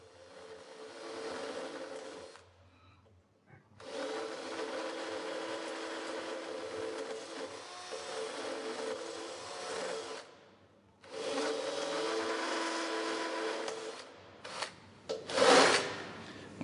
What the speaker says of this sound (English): So just cutting it back until he finds good metal again.